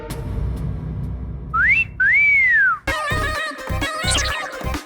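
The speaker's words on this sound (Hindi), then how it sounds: "सीटी क्यों मारा?" A person whistles two rising and falling notes, loud and clear, in a tense New Year's Eve scene with the lights out, followed by a burst of busy music-like sound.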